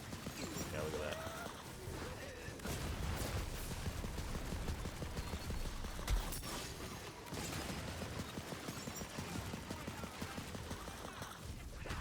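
Rapid gunfire from the video game Tiny Tina's Wonderlands, a dense clattering stream of shots and impacts mixed with chaotic combat effects, steady and busy throughout.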